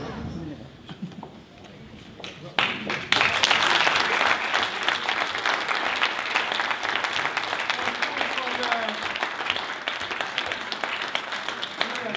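A crowd breaks into sustained applause, dense clapping building quickly and continuing steadily, with some voices underneath.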